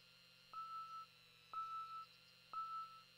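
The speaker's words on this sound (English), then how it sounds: "I keep hearing the beeping sound" Electronic beeping in Thief Simulator 2: three evenly spaced, steady-pitched beeps about a second apart, each lasting half a second, faint over a low background hum with no talking.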